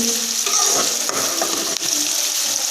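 Steady crackling sizzle of meat frying in a pan, close and continuous, with faint clinks of stirring and no voices.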